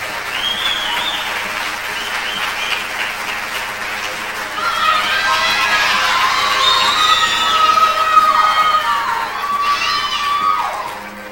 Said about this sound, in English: let's welcome them back on stage with a big round of applause